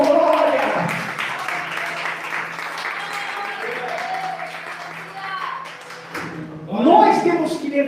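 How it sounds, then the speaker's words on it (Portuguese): A church congregation applauds with sustained, steady clapping, mixed with a murmur of voices and a louder burst of talk near the end. "Palmas para Jesus, você que crê"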